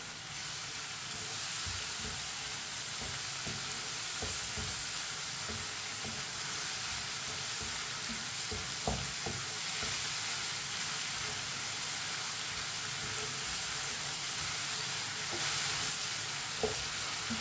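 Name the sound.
cabbage frying in pan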